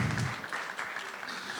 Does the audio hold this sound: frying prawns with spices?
no